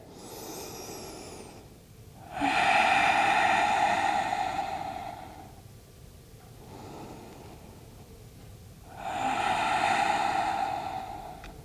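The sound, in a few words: deep yoga breathing in forward fold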